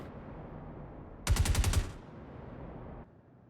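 A modded rifle fitted with a flash suppressor, scope and laser pointer fires a rapid burst of about six loud shots in the Star Citizen game, followed by a fading tail and quiet background.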